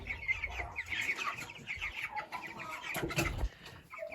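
Young chickens cluck and peep continuously in a crowded cage of about 25 birds, a steady close chorus of soft chatter with no talk over it.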